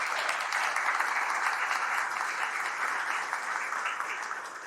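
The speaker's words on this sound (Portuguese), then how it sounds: "uma salva de palmas para elas." An audience at a conference workshop gives the speakers a round of applause, a dense, steady clapping that holds loud and even for about five seconds with no talking over it.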